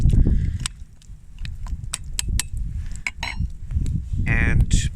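Salmon fish soup stirred in a pot over coals beside a frozen lake: irregular metallic clinks and scrapes of a utensil against the pot, close up, over low rumbling background.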